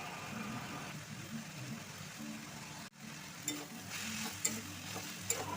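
Ridge gourd and potato with cumin powder being stirred in a hot pan, a soft continuous sizzle with a few scraping spoon knocks, quiet and close.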